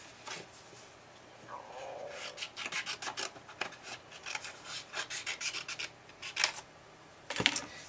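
Paper being trimmed for a Christmas tag makes close, quiet rasping and scraping strokes, in irregular short bursts of a trimmer blade sliding across the sheet.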